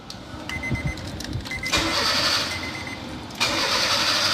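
A car engine cranks and catches during a GPS tracker install, then runs at a steady idle, with a second surge of revving near the end; close and fairly loud, no talk.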